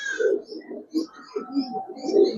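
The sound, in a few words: pigeons cooing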